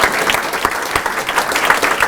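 Audience applause at a civic announcement event in Richmond, a dense, steady burst of many hands clapping close and loud with no talk over it.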